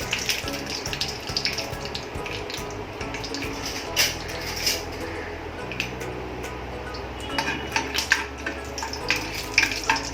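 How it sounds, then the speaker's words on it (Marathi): Peanuts fry in hot oil in a pan, a busy crackling sizzle mixed with stirring clinks and scrapes, fairly close, with a low hum running underneath throughout. "आपण इथे शेंगदाणे तळून घेऊया पहिले"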